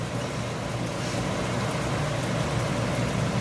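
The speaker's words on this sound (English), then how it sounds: "there's a huge downpour in my area right now." Heavy summer downpour during a storm in Massachusetts, a steady, dense roar of rain hissing continuously at close range with no voices over it.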